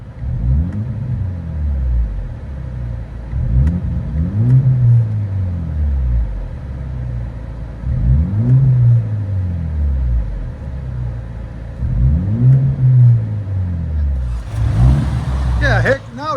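A 2024 BMW X1 M35i 2.0L turbo with resonator and muffler delete, heard from inside the cabin: loud, booming exhaust rising and falling through repeated rev and gear cycles, with a brief hissing burst near the end.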